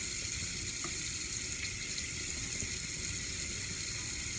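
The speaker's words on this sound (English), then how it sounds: "I'm gonna wash dishes while you guys," Water running and splashing at a kitchen sink while dishes are washed, a steady close rush of tap water with faint clinks, no talking.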